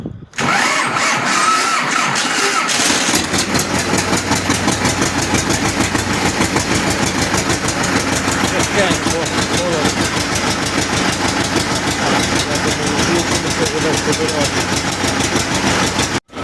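A homemade tractor engine cranks in cold weather for about two seconds, then catches and runs with a loud, steady, rapid chugging that continues close by to the end, with a voice briefly audible.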